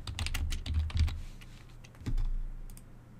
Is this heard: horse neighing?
no